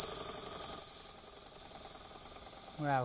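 A toy steam engine's whistle hisses continuously at a steady high pitch over a steam background, with a short rising squeal near the end; no voices.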